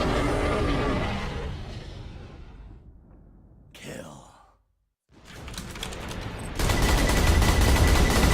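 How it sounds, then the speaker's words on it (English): Bursts of rapid gunfire from the Borderlands 2 video game as a player shoots an enemy in the chest. Loud dense volleys come and go, with a brief near-silent gap before the firing returns heavier. "Now we just like shoot this guy in the chest a lot or something"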